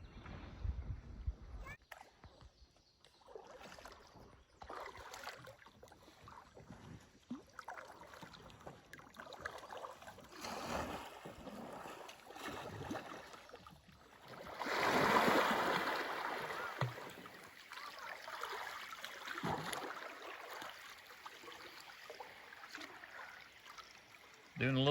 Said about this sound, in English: we're just floating in the Green River after kayaking